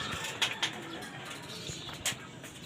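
A flock of pigeons on a training flight, heard as faint scattered coos and wing flutters with a few brief louder bursts over steady outdoor background noise.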